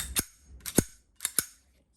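Slide of a new M1911-style blank pistol racked with sharp metallic clacks: four crisp mechanical snaps in two pairs, close and loud, with no talking.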